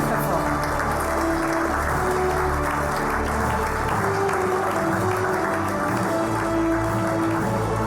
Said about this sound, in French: Et vous pouvez l'applaudir très fort.